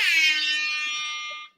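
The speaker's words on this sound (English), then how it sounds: "I'm going to have to give this the air horn." A loud, close air horn blast bursts out on a science stage show, holding steady for about a second and a half before stopping abruptly, with no voices over it.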